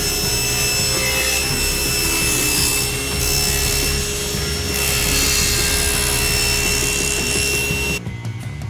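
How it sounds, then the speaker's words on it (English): Leftover MDF board being cut on a table saw in a home workshop, a steady loud whirring cut that runs continuously for several seconds and then stops abruptly near the end. "I'm going to do that by cutting down some leftover MDF from when I made my outfeed table on my table saw"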